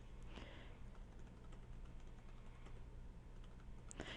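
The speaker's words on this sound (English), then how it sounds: "you type in all these numbers." Numbers being keyed into a computer keyboard, a steady stream of faint, rapid key clicks with no voices, quiet and close.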